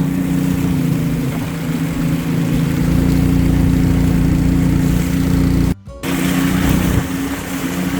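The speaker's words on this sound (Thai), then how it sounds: "วันนี้ก็จะเป็นเสียงเรือ" A boat engine drones loudly and steadily up close on a river in Vang Vieng, Laos, with a brief dropout partway through before the roar resumes.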